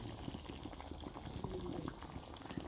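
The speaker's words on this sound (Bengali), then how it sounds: "ঝোলটা ফুটে আসলে ঝোলটা আমি নামিয়ে নিই।" Fish curry gravy bubbling and simmering in a pot with mustard paste, a steady soft burble of popping bubbles heard close and fairly quietly throughout.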